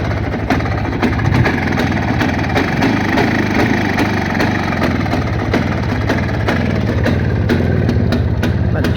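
A cold motorcycle engine that was once opened and rebuilt idles unevenly, close and loud, with a steady run of rhythmic chugging pulses that sounds close to stalling.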